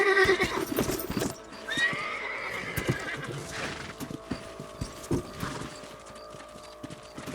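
A horse in the Red Dead Redemption video game gives two loud neighs near the start, followed by steady clip-clopping hooves that continue to the end.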